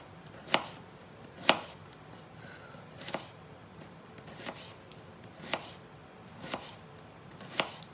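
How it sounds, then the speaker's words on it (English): A knife chops an onion on a cutting board, with seven or eight sharp, separate knocks spaced about a second apart against a quiet kitchen background. "I'm going to just cut this onion up some here."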